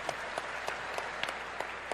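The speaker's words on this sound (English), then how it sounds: "Big round of applause for these guys." An audience at a BlizzCon World of Warcraft Q&A panel applauds, a steady wash of many hands clapping with a few sharper claps standing out, heard without speech.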